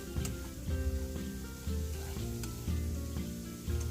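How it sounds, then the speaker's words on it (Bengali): Spices sizzle in oil with onion and garlic over low heat for a tangra fish tel jhal, a steady close frying hiss broken by periodic stirring strokes. "মশলাগুলোকে পেঁয়াজ আর রসুনের সঙ্গে খুব ভালো করে মিশিয়ে ভাজতে থাকবো।"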